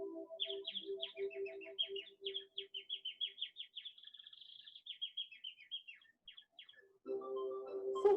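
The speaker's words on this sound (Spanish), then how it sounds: "El pájaro cantaba con su hermosa voz para ellos." A snow-white bird sings in a storybook scene with bright, rapid chirps and trilling tweets that run for several seconds, then briefly give way to a fuller, louder tonal sound at the end.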